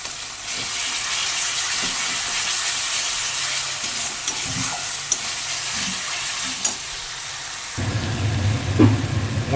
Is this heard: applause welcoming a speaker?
no